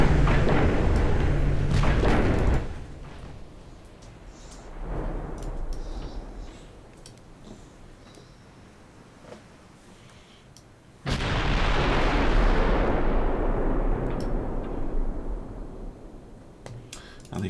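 Heavy naval gunfire in the warship game Ultimate Admiral Dreadnoughts, with cannons firing at destroyers: loud broadband booms near the start and around 11 seconds, each rumbling and decaying over several seconds, with softer distant thuds in between.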